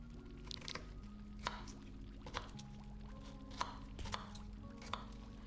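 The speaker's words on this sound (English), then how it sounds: "Now I am chopping up a salad, and I'm actually going to let you guys hear that it comes with sounds that come with chopping." A salad is chopped in the Second Life game, with sharp knife chops on a board at a steady, unhurried pace, about one every second, over a faint background hum.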